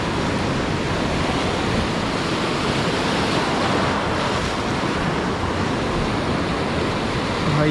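High-tide ocean waves wash continuously against an island shore, a loud close roar of surf mixed with gusty wind buffeting the microphone, no voices heard.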